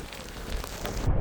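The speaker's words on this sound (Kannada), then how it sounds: "ಮಳೆ ಹೆವಿ ಬರ್ತಿದೆ." Heavy rain falls near a hill temple at Kote Betta in Madikeri, a dense, continuous hiss of drops that swells slightly toward the end.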